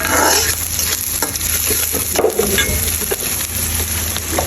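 Onions frying in oil until crisp and browned, a loud close sizzle with stirring scrapes and clatter running throughout.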